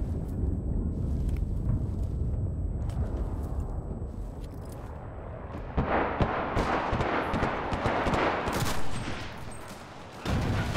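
Gunfire in the WWII shooter Enlisted, set in North Africa, crackles as a dense fusillade of rapid distant and mid-range shots over a low rumbling battlefield, growing busier and louder midway.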